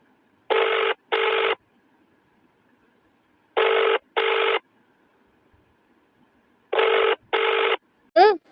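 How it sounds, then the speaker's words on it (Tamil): Ringback tone of an outgoing phone call: three pairs of double rings separated by silence, loud and clear, ending with a brief rising tone. "ரிங் போயிட்டு இருக்கு."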